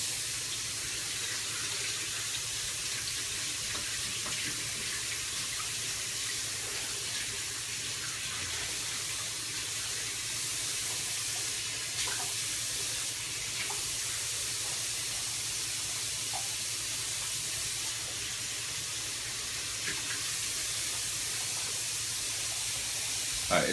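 Water running steadily from a sink tap while hair is rinsed off a finger after a neck trim, a constant close splashing hiss lasting throughout with no speech.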